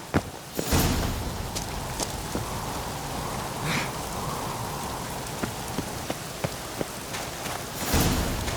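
Steady rain in The Witcher 3: Wild Hunt patters across a surface, with scattered drips and occasional louder splashes, continuous and moderately loud with no talking.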